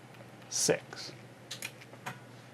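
A few quick taps on calculator keys enter a number, with short clicky bursts spaced unevenly over a couple of seconds, close and fairly quiet.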